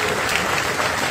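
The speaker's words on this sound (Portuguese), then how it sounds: "Uma salva de palmas, companheiros." A crowd of comrades at a 40th-anniversary gathering of the MST landless workers' movement gives a round of applause, a thick, steady wash of clapping that fills the whole brief moment.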